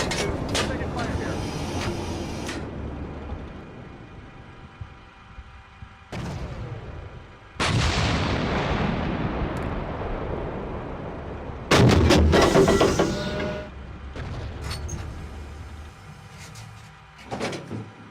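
Booming artillery blasts and gunfire in a video game battle, several loud abrupt explosions each trailing into a long rumbling decay, with scattered quieter shots and voices talking in between.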